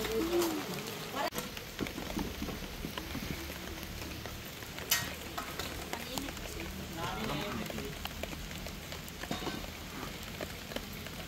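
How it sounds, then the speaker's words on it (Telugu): Heavy rain pours steadily on an outdoor surface, a dense continuous hiss with scattered louder drops and splashes, and a voice speaks faintly under it. "వర్షం పడిపోతుంది"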